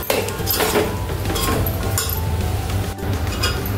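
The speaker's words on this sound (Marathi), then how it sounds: "त्यानंतर हे सगळं एकजीव करून घेऊयात आपण" Mixed vegetables and spices being stirred in a pan for vegetable pulao. There are repeated metallic scrapes and clinks of a spoon against the pan, close and fairly loud, in an irregular rhythm.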